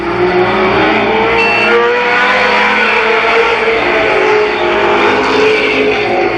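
Race cars roar through a heat race at Columbus Motor Speedway, a loud sustained engine drone that holds steady across the whole stretch, with no voices.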